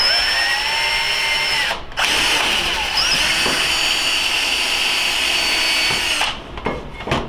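Power drill driving a tap to thread holes in a machined purge block, a steady high-pitched whine with brief pauses between holes as the tool stops and restarts.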